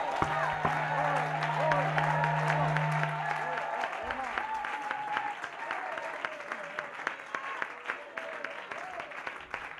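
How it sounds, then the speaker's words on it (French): A large church congregation applauds loudly and continuously during a worship service, dense clapping with crowd voices mixed in and a low sustained tone fading early. "We are going to give a hand of clap pour le roi"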